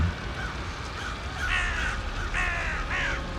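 A crow caws several times in a row, the iron-beaked crow from a Thai ghost story, with harsh rasping calls that come in short bursts over a low rumbling background.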